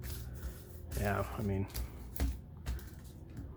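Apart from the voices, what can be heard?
shuffling Yu-Gi-Oh booster packs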